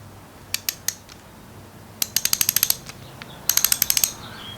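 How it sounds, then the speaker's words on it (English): A Craftsman overdrive ratchet clicks in short bursts of rapid, sharp metallic ticks, with a few isolated clicks first and then two quick runs of evenly spaced clicks, close and clear with no voices. "something about these old ratchets, they're coarse, but they're smooth in the same way"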